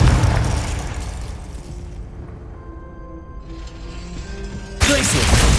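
Confringo fire spell blasts in the Hogwarts Legacy video game: a loud booming burst at the start fades into a low rumble, then another explosion hits near the end.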